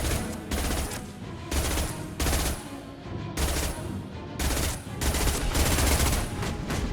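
Rapid bursts of heavy gunfire from the Impact Shot in Mass Effect 2, repeated loud volleys with crashing impacts in a chaotic game firefight, dense and continuous throughout.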